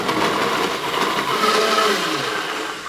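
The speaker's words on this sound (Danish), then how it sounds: "Imens frikadellerne lige steger færdig, så blender jeg den her sellerimus." A kitchen blender purées a celery mousse in a long, loud, close, steady whir with a slightly rough texture throughout and no talk.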